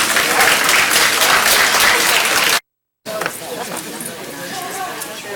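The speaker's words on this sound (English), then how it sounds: "Let's give him a round of applause for being here with us" Audience at a language conference applauding guest speaker Eddie Benton-Banai; loud, dense clapping that cuts out abruptly for a moment, then returns thinner and quieter amid crowd murmur.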